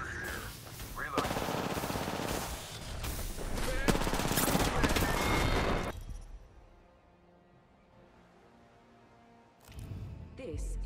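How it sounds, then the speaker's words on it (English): Rapid video game gunfire rattles loudly in bursts over the first six seconds, then drops to quiet before a brief burst returns near the end, with a voice speaking over the action. "Shot fired and they're hitting me. Just shot it."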